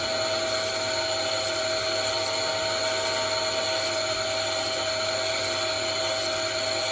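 Bench grinding wheel, set up as coarse, sharpening a steel chisel: a steady, continuous high-pitched grinding whine held close and loud throughout, with no talking.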